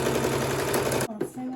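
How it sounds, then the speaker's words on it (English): Sewing machine stitching a fabric ruffle runs loud and steady for about a second, then stops abruptly with a few faint handling sounds afterward. "you place it in the machine. Now I'm starting the sewing from the middle."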